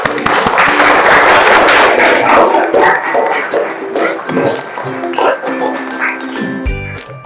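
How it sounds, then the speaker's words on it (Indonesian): Audience applause at the close of a group presentation in a university classroom, steady dense clapping that fills the room from the start, then thins and tapers toward the end. "Kita kasih presentasi, tepuk tangan."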